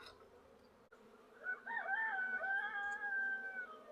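Honeybees buzz faintly during an inspection of a beekeeper's hive, a soft steady hum overlaid by wavering higher drone tones that swell after a short pause, with no talking.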